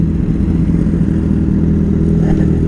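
A motorcycle exhaust rumbles loudly and steadily up close while revving, a deep continuous engine throb without any speech.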